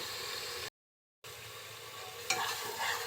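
Spice paste with turmeric fries in oil for a Bengali beef curry, a continuous close sizzle with stirring, interrupted by one brief silent gap.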